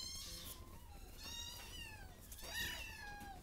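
A cat meows repeatedly in short rising and falling calls, close and fairly soft, with a faint purr underneath and no talk.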